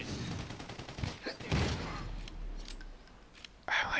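Gunfire in the shooter game Army of Two: The Devil's Cartel, scattered sharp shots and a volley of fire mixed with clattering game sounds at moderate loudness.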